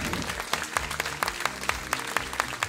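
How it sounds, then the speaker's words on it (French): Audience at a dance gala applauding the dancers: dense, steady clapping from a crowd filling the room, close and fairly loud, with no voices over it. "on peut les applaudir"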